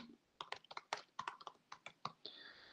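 Rapid keystrokes on a computer keyboard while entering a question title in an online classroom, around a dozen sharp clicks in an uneven burst, close and clear with no talking.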